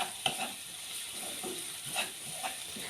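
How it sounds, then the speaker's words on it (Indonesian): Seasoning being stir-fried in a pan for tuna lemper, a faint steady sizzle broken by a few soft scraping stirs of the spatula, quiet and close, with no voices. "Ini kita tumis sampai wangi."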